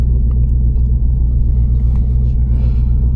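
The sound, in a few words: manual S650 Mustang GT engine running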